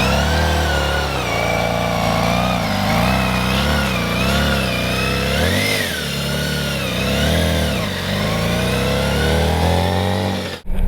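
A 2011 BMW K1600GTL motorcycle engine hums loud and close while riding, its pitch rising and falling smoothly with throttle changes throughout, with no talk.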